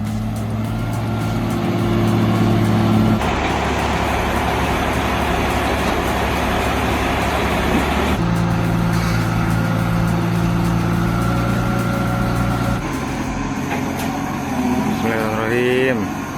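Heavy machinery engines, an excavator and a large logging truck, rumble steadily on a forest road, a loud continuous low drone that shifts in pitch as loads change, with talk mixed in over the engine noise.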